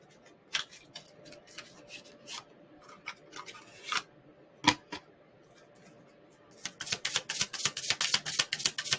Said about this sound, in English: Let's pull some Jesus Christ tarot cards here by Doreen Virtue